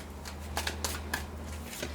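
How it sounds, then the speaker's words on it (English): Tattoo-themed tarot cards being shuffled, a steady riffling of card stock with soft flicks and taps over a low constant hum, with no talking. "Now I'm shuffling at the tattoo tarot."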